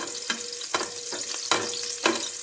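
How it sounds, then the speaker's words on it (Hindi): Chopped garlic cloves fry in a pan while being stirred, a steady close sizzle broken by four sharp scraping stirs spaced through the clip. "इसको मिक्स करेंगे और हल्का सा फ्राई करेंगे।"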